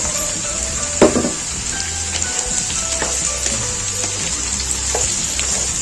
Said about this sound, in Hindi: प्याज के साथ हम टिंडों को अच्छे से फ्राई कर लेंगे।